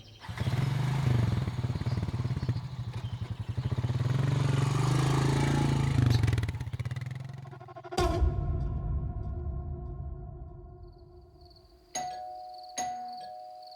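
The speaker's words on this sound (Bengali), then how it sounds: "বাইকে কিকস্টার্ট দিলাম" A kick-started motorcycle engine roars steadily for several seconds, then cuts to a lower rumble; a two-tone electronic doorbell chime rings twice near the end.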